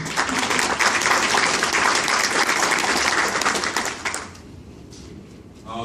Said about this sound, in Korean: 여러분 박수 한번 보내주시죠.